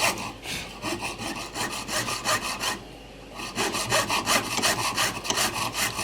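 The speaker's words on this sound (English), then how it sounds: "This is a very fine blade on the saw. 32 teeth per inch." A very fine saw blade with 32 teeth per inch cuts slowly through a part during the repair of a Japanese 40-day wall clock, making steady, rhythmic rasping strokes with one brief pause midway.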